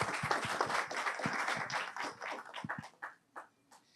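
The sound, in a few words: audience applause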